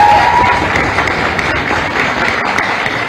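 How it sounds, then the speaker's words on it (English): An audience at a college youth parliament event gives a sustained round of dense applause, steady and fairly loud for a few seconds without a break. "I think we should give a big round of applause to all of them."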